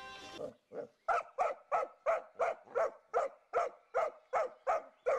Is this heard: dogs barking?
yes